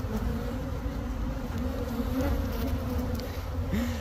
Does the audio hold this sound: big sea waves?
no